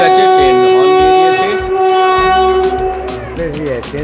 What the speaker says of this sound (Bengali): এখন টাইম হলো তোমার অলমোস্ট টাইম হয়ে গেছে, ট্রেন হর্ন দিয়ে